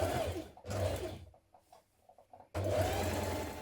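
Domestic sewing machine stitching a pocket onto a children's dress: two bursts of steady, close mechanical whirring separated by a quiet pause with faint handling clicks.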